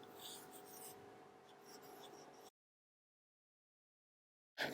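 Pen scratching across paper in short, faint strokes for a couple of seconds over a soft room hiss, then silence with a brief noise at the very end.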